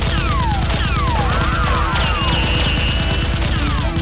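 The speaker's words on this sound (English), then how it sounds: "the soldiers shoot as they move" Rapid toy Nerf gun fire in a staged fight, a dense, loud, continuous stream of shots with overlapping whooshing and whistling effects running throughout.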